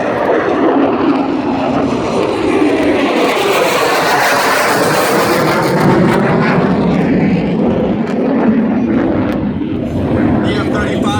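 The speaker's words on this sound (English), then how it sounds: "photo pass showing the profile of the aircraft while banked and in afterburner" F-35B fighter jet making a banked afterburner pass at MCAS Miramar, a loud, sustained roaring rumble with shifting tearing tones as it sweeps by, while voices of excited spectators are heard over it.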